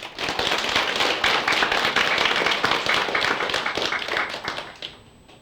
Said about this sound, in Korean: 박수부터 한번 쳐보세요